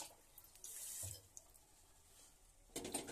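Water poured from a cup onto about two cups of sugar to make syrup, heard as faint, short splashing bursts near the start and again at the end of a quiet stretch.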